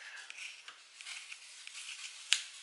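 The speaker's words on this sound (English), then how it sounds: "I'm going to go ahead and cut all the toes off" Scissors snip through the toes of socks along the seams, making faint, crisp cuts repeated in a loose rhythm, with one sharper snip near the end.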